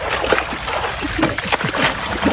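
Laundry rinsed by hand in clear water, giving irregular close splashes and sloshes in quick succession.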